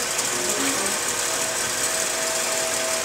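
An IntelliQuilter computerized quilting machine stitches a pantograph pattern on a quilt with a steady, fast mechanical whir and rapid needle chatter, continuous and moderately near.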